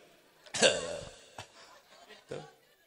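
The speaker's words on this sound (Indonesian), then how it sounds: "Aduh, batuk euy." A person gives one strong cough, followed by a couple of smaller coughs or throat-clearing sounds, all close to the microphone against a quiet background.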